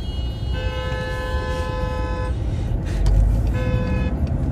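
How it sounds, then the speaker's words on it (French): Car horns honk in overlapping blasts, two long tones then another shorter one, over the low rumble of traffic nearby. "Ils se klaxonnent les uns sur les autres"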